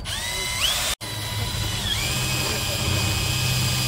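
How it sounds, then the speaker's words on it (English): A power drill bores holes in a Honda Element car, its whine rising in pitch as it spins up, cutting out briefly, then running steadily and close. "he's drilling holes in my car"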